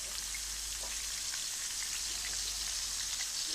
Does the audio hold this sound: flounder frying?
yes